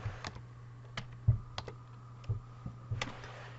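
Numbers tapped out on a small separate computer keyboard during embroidery design work: a handful of sharp, close key clicks in an irregular rhythm over a faint steady hum, with no talking.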